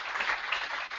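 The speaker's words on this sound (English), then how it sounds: "please applaud" An audience at a Bitcoin conference panel claps briefly for a panelist, a short, even burst of applause heard from a distance.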